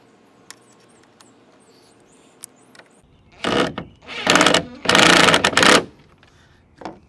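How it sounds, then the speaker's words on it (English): Screws being driven into an F-150 tail light with a power driver, several close loud whirring bursts in the second half after quiet faint clicks. "you just got to put the 2 screws that you removed."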